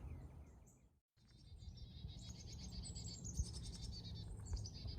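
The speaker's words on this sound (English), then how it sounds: "So we're hearing a group, probably a family group of Carolina chickadees here. And they're making their chickadee calls." A family group of Carolina chickadees calls in the Texas Hill Country preserve: faint, thin high chirps and buzzy notes repeat quickly over a soft outdoor hush, with a brief gap near the start.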